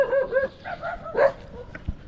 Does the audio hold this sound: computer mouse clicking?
no